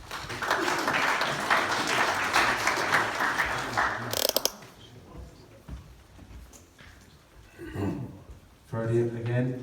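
Audience applause at a Cavan club championship draw as players come up on stage: steady crowd clapping for about four seconds, then it stops abruptly, followed by a quieter room with light knocks and a voice speaking.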